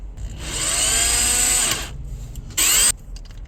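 Power drill driving screws into wood while building a nightstand: one sustained whining run of about a second and a half, then a shorter, sharp burst close by, with no talking.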